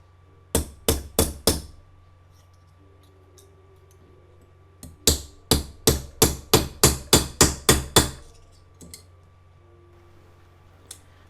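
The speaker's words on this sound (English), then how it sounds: "We then need to flatten it with a hammer so the two sides are totally together." Hammer blows flattening folded sheet metal for a leaf-shaped necklace: a quick burst of four sharp strikes, a pause, then a steady run of about ten close, loud strikes, alone with no talk.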